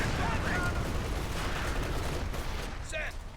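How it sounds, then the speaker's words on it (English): Heavy .50 caliber machine gun firing in a video game battle, with dense sustained rattling bursts and explosions over a continuous loud roar of combat. "50 cal following up."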